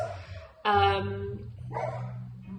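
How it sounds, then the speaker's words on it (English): A dog barks once, loud and close, then gives a second, softer yelp, with a low hum underneath. "sorry if you can hear the dogs in the background"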